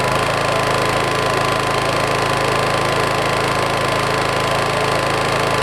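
Homelite HG600 portable generator, a Yamaha EF600 equivalent, running steadily at close range with a loud, dense, even engine drone and rapid mechanical clatter throughout, no voices over it.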